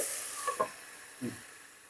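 Chopped potatoes frying in oil tempered with nigella seeds, giving a quiet, steady sizzle with a couple of faint stirring scrapes over a short stretch.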